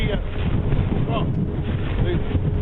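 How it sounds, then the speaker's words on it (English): A severe storm gust roars over a flooded street, a dense, steady rush of wind buffeting the microphone at close range for the whole stretch. "the most severe gust that's pushing through"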